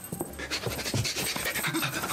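A dog pants quickly and closely in a steady rhythm of short breaths for about two seconds.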